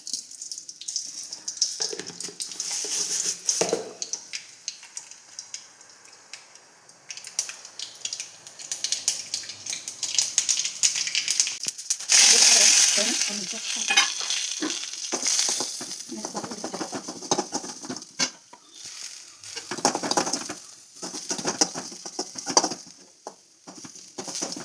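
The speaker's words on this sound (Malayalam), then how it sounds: "കടുക് വറുക്കുന്നതിന് 2 ടീസ്പൂൺ വെളിച്ചെണ്ണ, പിന്നെ അത്യാവശ്യത്തിനുള്ള കടുക്," Mustard seeds spluttering in two teaspoons of coconut oil for a kappa and chena erissery, with irregular crackling pops and hissing bursts that rise and fall over a long stretch, close and fairly loud.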